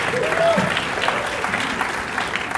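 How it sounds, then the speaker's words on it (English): A film festival audience at the Toronto After Dark Film Festival applauds the sponsors. The clapping is steady and moderately loud, with a voice briefly audible over it near the start. "Anchor Bay Entertainment Canada, big round of applause."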